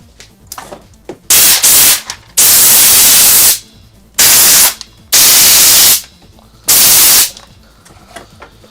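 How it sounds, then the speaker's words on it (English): Compressed air sprays in short hissing bursts to clean a PS5 HDMI port, loud and harsh, with about five blasts of varying length separated by quiet gaps. "I use compressed air to clean that area"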